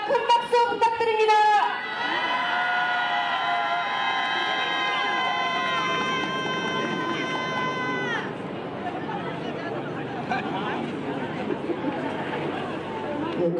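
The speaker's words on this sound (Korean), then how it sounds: "큰 박수 부탁드립니다." A protest crowd applauds and cheers outdoors. A dense wash of clapping and voices fills the final seconds, after shouting and a long sustained tonal sound.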